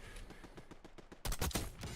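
Explosion in the Black Ops 6 video game: loud broadband bursts hit about midway, following a run of rapid gunfire-like cracks, with the blasts dense and close.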